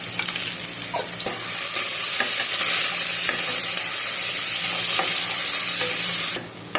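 Onions sizzle and fry in a hot pan, a dense continuous hiss with occasional scrapes and clicks of stirring, loud and close, stopping abruptly near the end.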